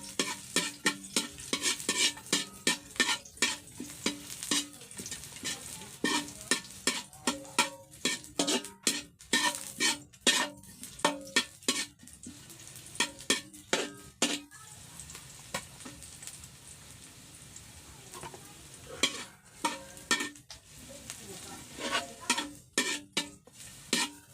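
Onion frying and being stirred with pork in a pan over a simple mountain cooking setup, a soft continuous sizzle under repeated scraping and clinking strokes of a utensil against the pan, no talking.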